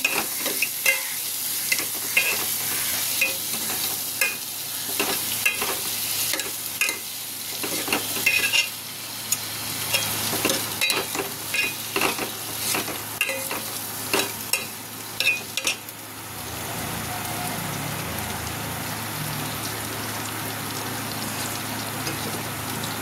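Washed moong dal tipped into a hot pan and stirred, with a busy sizzle and repeated scraping, clattering strokes of the spoon for most of the time, then a steadier, softer frying hiss near the end.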